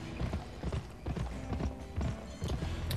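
A horse in the Western video game Gun clip-clops along in a steady rhythmic gait, the hooves close and distinct, with a faint whinny in the background.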